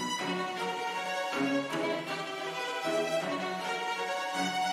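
Orchestral patch from the Animated Orchestra Kontakt library, the Merciless Fellow preset, plays sustained harmonic chords with rhythmic accented swells, moderately quiet and alone.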